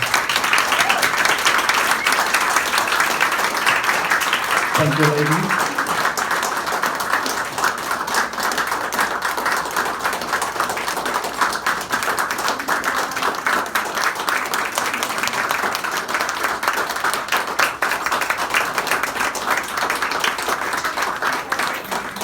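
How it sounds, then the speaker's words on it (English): A reception crowd applauds living heroes at a meet-and-greet with a retired rear admiral. Dense, continuous clapping holds for over twenty seconds at an even level, and a brief spoken thanks rises over it early on. "All right, a round of applause for all our living heroes."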